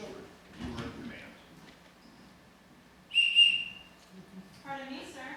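A short shrill whistle blast during a community stage production of The Sound of Music, heard once mid-clip between faint footsteps and stage noise, with a voice speaking near the end.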